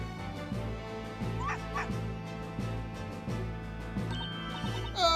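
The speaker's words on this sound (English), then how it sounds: "Oh no, it's the dog. Wait a minute, that aggressive bark." Aggressive dog barks and yips from the Professor Layton vs Phoenix Wright video game, repeated several times over a looping music track, fairly loud and with no talk.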